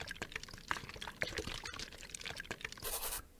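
Weak concrete poured in the video game Landlord's Super, a scattered wet sloshing and trickling run of small splashes with a brief brighter hiss near the end, moderately close and heard alone.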